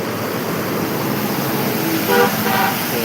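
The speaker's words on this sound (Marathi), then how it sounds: "गाड्यांचा आवाज जाम येतो बघा" Morning road traffic in Savarde, in the Konkan region, rumbles steadily nearby, and a few short car horn toots sound toward the end.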